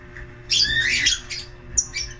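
A hen with her chicks gives a short, close squawking call followed by softer chirps, loud and clear over quiet surroundings.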